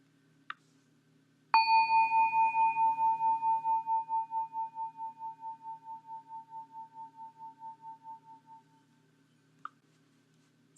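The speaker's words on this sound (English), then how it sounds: "I'm going to ring this bell once to start and once to stop the skill's practice." A meditation bell struck once to open a practice session: a single clear strike that rings out and slowly fades over several seconds in a quiet room, with a faint tick before and after.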